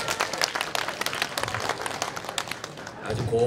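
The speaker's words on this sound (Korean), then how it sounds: "그럼 다시 한번 박수 한번 해주세요." Audience clapping at an outdoor festival performance in Daegu, a brief, moderately loud round of applause with a crowd and a voice over it near the end.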